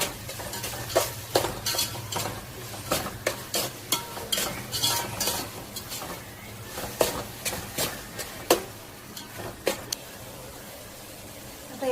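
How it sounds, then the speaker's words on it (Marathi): Chopped tomatoes being sautéed in a pan, with a low sizzle beneath repeated loud scraping and clattering strokes of a spoon against the pan, close and rhythmic. "एक 2 ते 3 मिनिटे याला परतून घेऊ"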